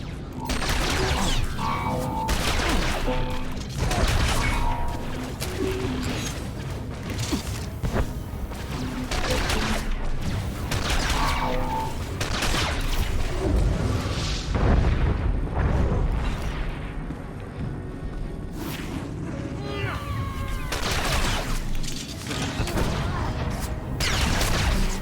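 Blaster and artillery fire in Star Wars: The Old Republic, a dense, continuous barrage of shots and booming impacts layered with battle noise throughout, loud and busy without a break.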